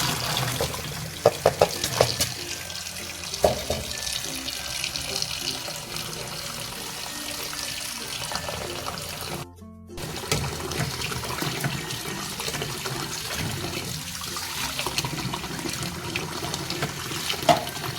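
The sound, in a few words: tap water washing vegetables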